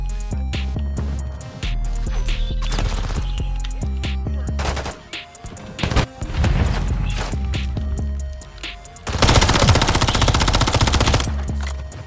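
Black Ops 6 gunfire rattles in loud, sustained automatic bursts with short pauses between them, and game music and effects play underneath.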